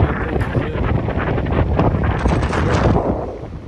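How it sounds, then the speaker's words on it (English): Strong wind blows at the sea and buffets the microphone in a loud, steady roar that runs without a break. It drowns out any other sound. "It is very windy"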